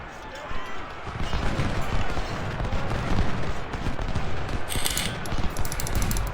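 Infantry musket volleys in the Civil War video game Ultimate General: Civil War make a dense, rolling crackle of overlapping shots that keeps going without a break, with sharper bright cracks near the end.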